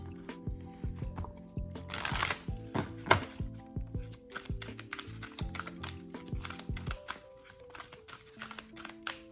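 Tarot and oracle cards being shuffled by hand, a run of quick papery riffles and soft taps that swell into a louder burst early on, with a faint background hum and no talking.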